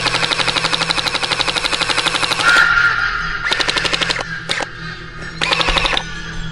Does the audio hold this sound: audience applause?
no